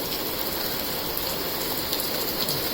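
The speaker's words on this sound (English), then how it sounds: "Quite the rainstorm going on." A heavy rainstorm pours down in a dense, continuous hiss of rain hitting surfaces, steady and enveloping, with scattered brighter drop impacts and no talk.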